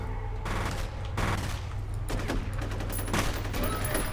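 Enemy shotgun fire in the shooter game F.E.A.R., in a water treatment plant: several loud, broad blasts burst out at irregular intervals over a steady low hum, with a voice talking faintly in places.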